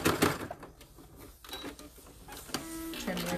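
Home sewing machine backstitching a seam on an apron, short mechanical whirring runs stopping and starting nearby, with a person speaking over parts of it.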